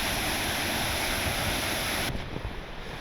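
Rushing snowmelt water floods through scrub brush and trees in an area that does not normally flow, a loud, dense, continuous roar mixed with wind buffeting the microphone, easing slightly near the end.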